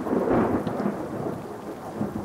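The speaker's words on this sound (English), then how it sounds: "Thunder and rain marred the hastily forced wedding." Thunder rumbles low and heavy through steady rainfall, a continuous stormy wash with no voices, marking a hastily forced Tudor-era wedding.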